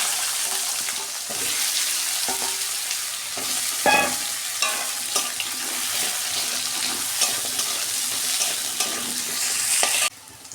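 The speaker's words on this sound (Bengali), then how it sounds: "ওই তেলে আলু বেগুনটা ভেজে নিচ্ছি।" Potato and eggplant pieces frying in hilsa fish oil crackle with a steady close sizzle, broken by scattered clinks and scrapes of a spatula stirring the pan, before the frying sound cuts off near the end.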